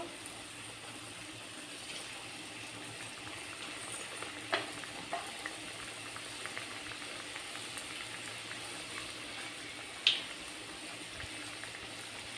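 Big samosas deep frying in hot oil, a quiet continuous bubbling sizzle with a couple of soft clinks from a utensil, no talking.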